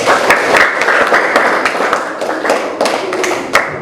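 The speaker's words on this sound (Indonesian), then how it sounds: "Tepuk tangan dulu" A group of people clapping hands during a classroom coaching activity, a steady dense patter with a few sharper individual claps standing out, fairly close and continuous throughout.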